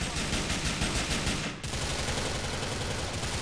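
Gunfire in the video game GTA 4 rattles as a dense, continuous fusillade of rapid shots. It dips briefly halfway through, then resumes at the same loud intensity.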